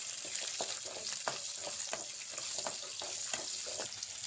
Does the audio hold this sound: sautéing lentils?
yes